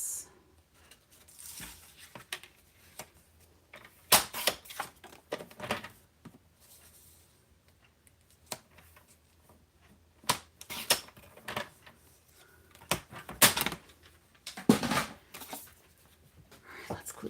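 Paper being trimmed for a Cute as a Bug craft project, with scattered crisp cutting and handling bursts, some in quick clusters, close by, separated by quiet stretches and occasional talking.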